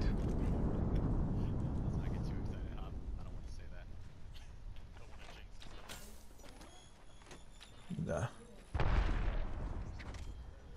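Airstrike explosions in the battle royale game Apex Legends: heavy booms and rumbling blasts, with a low rolling roar at first and sharper bursts near the end, mixed with other gunfire and game noise.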